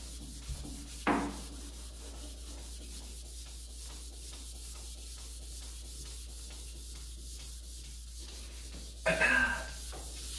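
Hand sanding on the wooden case of an old Steinway piano, a steady rhythmic rasping rub throughout, close and moderately quiet, with two louder scrapes near the start and end.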